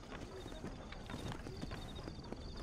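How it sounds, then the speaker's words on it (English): Horses clip-clop along in the Western game Red Dead Redemption, with a steady run of hoof beats over a constant bed of ambient noise. "Hey, these are old horses."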